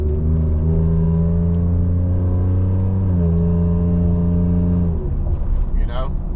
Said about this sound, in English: You can hear the exhaust out the back.